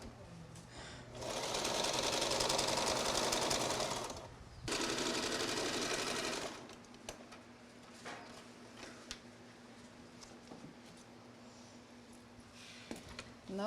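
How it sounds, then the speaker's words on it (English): Industrial sewing machine in a garment factory in Belize stitching a skirt, running in two loud steady bursts of rapid whirring, then stopping to leave quieter room noise with scattered clicks and light handling. "I always try to sew straight."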